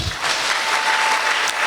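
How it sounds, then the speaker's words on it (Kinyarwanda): A church congregation claps for God in a short, loud, dense burst of close applause with no pauses. "twakomeye Imana amashyi."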